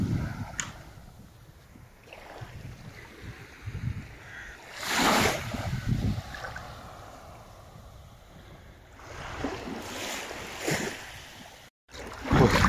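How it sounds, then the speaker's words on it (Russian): Morning sea water at a beach in Vityazevo laps gently, soft splashes and surges swelling and fading over steady wind noise, with no talking. "слышен только легкий плеск воды"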